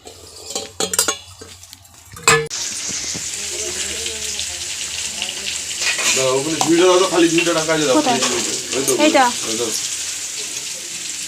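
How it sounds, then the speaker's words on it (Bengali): Dried fish chorchori curry cooking in a home kitchen pan sizzles steadily beside clinking utensils and the clatter of pots, while someone talks over the frying for much of the stretch. "এখন রান্না করছে শুটকি মাছের চচ্চড়ি"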